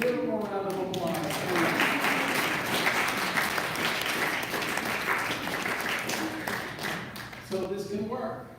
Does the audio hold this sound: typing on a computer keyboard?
no